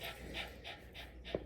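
A dog panting steadily close by, five quick rhythmic breaths in a row with no talking over them.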